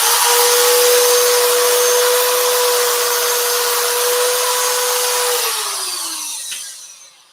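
A power sander works wood and resin with 800-grit paper, a loud steady whine with a constant tone that runs about five seconds, then winds down and fades to quiet.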